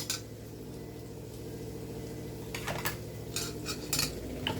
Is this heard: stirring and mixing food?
yes